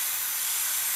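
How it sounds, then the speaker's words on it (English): An airbrush sprays out leftover paint in a short, steady hiss of air, close and fairly soft, with no talk. "you want to spray out all the paint that you have in there."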